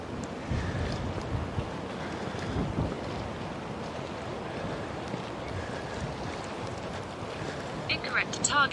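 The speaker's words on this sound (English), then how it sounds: "at least you might be able to hear the ocean today" Ocean waves washing on the coast in Denmark, a broad continuous rushing roar mixed with gusting wind buffeting the microphone, steady and fairly loud throughout.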